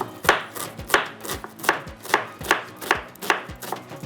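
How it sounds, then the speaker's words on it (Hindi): Onions are finely chopped on a cutting board with a knife, giving about nine crisp, evenly spaced knocks in a steady rhythm, close and clear with no talking. "इस तरह से बारीक बारीक चॉप कर लीजिएगा प्याज को।"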